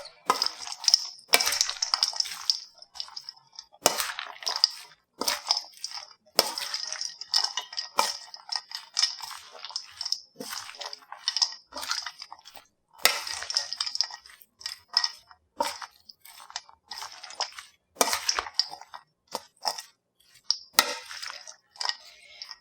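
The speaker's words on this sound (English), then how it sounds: "So chopped walnuts added in as well. Give this a quick little mix." Chicken salad being stirred together with chopped walnuts in a bowl, giving a run of close, soft clicking and scraping spoon strokes in an irregular rhythm, with short pauses between bursts.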